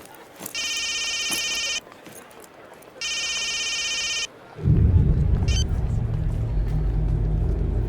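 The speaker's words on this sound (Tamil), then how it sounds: "ஃபோன் எடு." A telephone rings in two loud electronic bursts separated by a pause, then stops, and a steady engine-like rumble follows.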